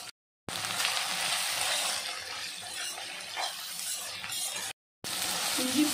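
Capsicum, onion and ginger-garlic paste sautéing in a pan, a steady close sizzle with occasional stirring scrapes, briefly cut by two short silent gaps.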